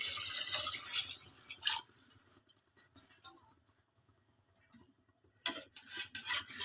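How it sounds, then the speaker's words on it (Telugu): Water poured into rice in a pressure cooker for chicken biryani, with splashing bursts of pouring and dripping separated by short quiet gaps, close and fairly soft, with light clinks of utensils. "3 గ్లాసులు వాటర్ వేసుకోవాలి."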